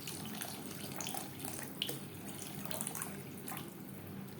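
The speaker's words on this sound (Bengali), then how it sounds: "এই পর্যায়ে দিয়ে দেব জল।" Water pours steadily into a pan of well-fried masala for a Bengali aar fish curry, a continuous running splash with a faint brief clink partway through, fairly close, no voices.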